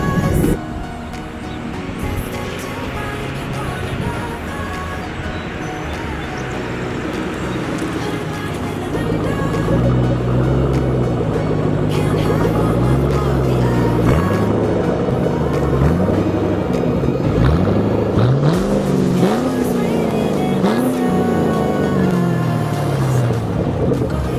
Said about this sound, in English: Kind of hard to drive this car while filming while driving stick.